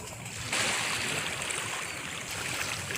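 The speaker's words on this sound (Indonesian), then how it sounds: "Mulai ada ombak." Ocean waves added as a sound effect in an online children's Sunday school story: a steady broadband wash of surf that swells in loudly and rolls on without pause, with no voices.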